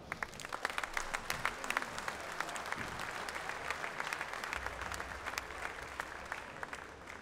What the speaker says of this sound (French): Donc je vous demande de les applaudir déjà.